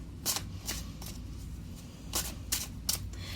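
Repeated quick riffling bursts of tarot cards being shuffled, five or six crisp flurries spaced irregularly over a low steady background hum.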